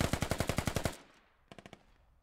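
Automatic gunfire in the military shooter game Squad: a loud, rapid burst of about nine shots, then a short pause and a fainter, more distant burst of several rounds.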